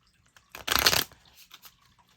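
Tarot cards are shuffled by hand in one quick, close riffling burst, followed by a few lighter flicks and taps in an otherwise quiet room.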